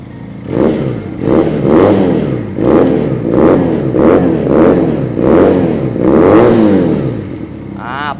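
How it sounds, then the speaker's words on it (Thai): A 2019/20 GPX Legend 250 Twin motorcycle revs repeatedly through its exhaust, about nine loud, close throttle blips in a steady rhythm, each rising and falling, with a brief beep at the end. "อ่าเดี๋ยวมาฟังเสียงท่อกันหน่อยนะฮะ สตาร์ทง่ายๆเลยครับลูกค้า โอ้โห ท่อโคตรลั่นเลย"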